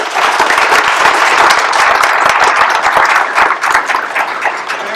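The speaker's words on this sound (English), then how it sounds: "So if we can just give them a quick round of applause." An audience at a school college-commitment event in May 2022 gives a quick round of applause for the coaches, with brisk, dense clapping throughout that eases slightly toward the end.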